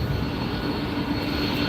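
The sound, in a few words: Delta airliner taxiing at LAX airport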